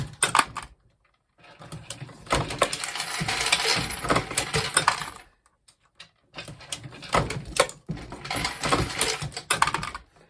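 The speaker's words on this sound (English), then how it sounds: "while I'm stroking the handle with my right hand, I'm getting the bullet up with my left hand, and it goes pretty slick" A Dillon 650 progressive press reloading 9mm ammunition, making two bursts of metallic clinking and clattering as the handle is stroked and bullets are fed, separated by a short pause, close and moderately loud.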